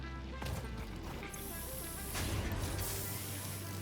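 A concrete plant machine in the factory game Satisfactory runs with a steady, dense mechanical drone and hiss, close and continuous, with a brief shift in texture midway and no voices.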